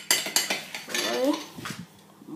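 Utensil scraping and clinking against a bowl while mixing chicken fillet with pepper, vinegar and salt, a few quick knocks then steadier stirring, close and moderately loud, with a voice speaking briefly.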